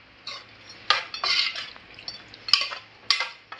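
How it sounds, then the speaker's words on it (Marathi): Mutton being stirred with masala in a metal pot, a spoon scraping and clanking against the sides in quick irregular strokes, with a wet sizzle underneath, close and clear with no talk. "हे व्यवस्थित मिक्स करून घेऊया आपण।"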